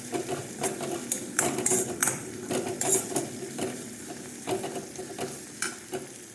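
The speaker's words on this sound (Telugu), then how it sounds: "ఇప్పుడైతే చిన్న అల్లం వెల్లుల్లి పేస్ట్ అయితే వేస్తున్నాను. ఇది బాగా వేగిన తర్వాత పచ్చివాసన పోయేంత వరకు వేపుకొని" Ginger garlic paste fries in a pan for a mushroom curry, with a spoon scraping and stirring in irregular clacks and scrapes over a soft, steady sizzle, heard up close with no talk.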